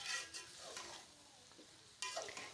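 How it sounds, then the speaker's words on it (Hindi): Diced potatoes stir-fried in a pan for aloo bharta, giving a soft steady sizzle with scraping stirs that swell near the start and again toward the end. "अब इनको थोड़ा सा भूनेंगे"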